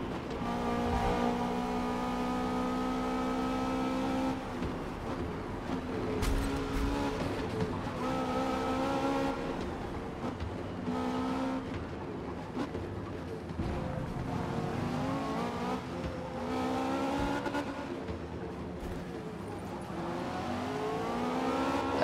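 Zenvo TSR-S race car lapping the Nordschleife in Forza Motorsport, its engine droning and rising in pitch through gear changes with occasional tire squeal, a steady loud in-car roar across the whole stretch.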